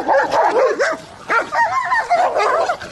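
Two black dogs bark and yap furiously while attacking a cyclist, loud and close, with rapid overlapping barks and whimpering yips in a continuous frantic burst.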